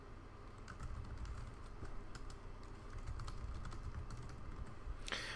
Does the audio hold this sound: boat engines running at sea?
no